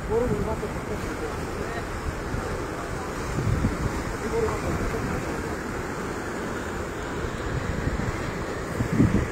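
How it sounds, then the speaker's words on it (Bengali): Red Sea waves wash against rocks and barricade stones at night, a continuous low rumbling roar with wind buffeting the microphone, heard under someone talking throughout. "এখানে সমুদ্রের গর্জন অল্প অল্প শোনা যায় বাম পাশে।"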